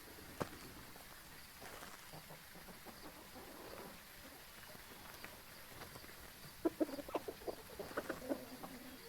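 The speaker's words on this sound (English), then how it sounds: "There's a ghost chicken in there." Clucking from a ghost chicken in the horror video game Phasmophobia, faint and low in the mix at first, then a cluster of sharper clucks in the last few seconds over quiet background ambience.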